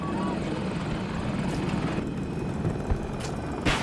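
A jet aircraft in the shooter Battlefield 2042 roars overhead, a steady broad rushing drone beneath gunfire and battle noise.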